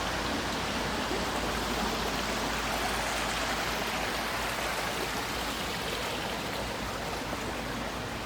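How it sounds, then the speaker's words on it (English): Water in a creek rushes and babbles steadily, a dense, constant flow heard up close with no voices. "And then you have this whole creek that you can take photos by."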